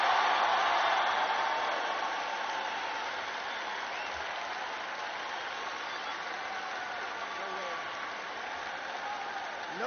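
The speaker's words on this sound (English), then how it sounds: "Do you hear that roar from the crowd?" A roar from a crowd of college students, a broad sustained wash of cheering and clapping that starts loudest and settles into a steady, slightly fainter rumble, heard as if relayed through a broadcast.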